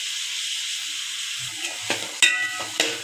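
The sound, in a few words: stirring carrot, bean and potato pieces frying for vegetable biryani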